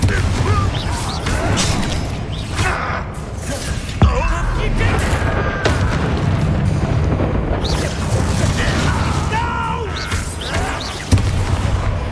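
Spell impacts from Descendo and Confringo in Hogwarts Legacy on PS5, heavy booms and crashing blasts repeating over continuous combat noise, loud and close, with shouted spell names over them.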